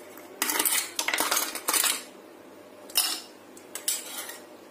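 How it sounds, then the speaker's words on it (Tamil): Ice cubes are dropped into a glass for Dalgona coffee, giving several bright clinking and rattling bursts in quick succession, then a couple of further clatters after short pauses. "அதனால உங்களுக்கு எவ்வளவு வேணுமோ அவ்வளவு போட்டுக்கலாம் அந்த ஐஸ்."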